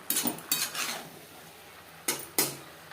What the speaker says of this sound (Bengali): চিংড়ি মাছ বেশ ভালো করে মিক্স করে দেবো।